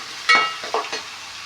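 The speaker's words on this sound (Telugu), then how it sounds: "ఇప్పుడు 1 కప్ ఆనియన్స్, ఇవి ఆయిల్లో మంచిగా ఫ్రై చేసుకుందాం, గోల్డెన్ కలర్ వచ్చేంత వరకు." Onions, about a cupful, go into hot oil to fry until golden, giving a brief sizzle and stirring scrape with a few short bursts of sizzling that fade back to a quiet background.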